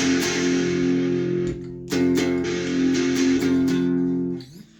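A distorted electric guitar played through an Orange Crush 12 practice amp, distortion around 1 or 2 o'clock, sustains thick, buzzing chords, briefly cut off and restruck several times before the final chord fades out.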